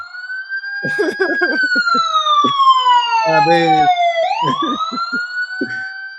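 A loud wailing siren sweeps slowly down in pitch and then rises again, with a voice talking over it.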